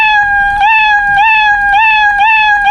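The Scratch cat's meow sound effect plays several times in quick succession, a loud, clear, tonal mew with a slight upward bend at the start of each repeat.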